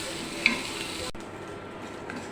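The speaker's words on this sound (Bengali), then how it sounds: "এই যে বাকিটাতে একটু শুটকি মাছ ভেজে নিচ্ছি" Dried fish (shutki) frying in a pan, a continuous near sizzle with a small tap early on; the hiss drops away abruptly halfway and continues more quietly.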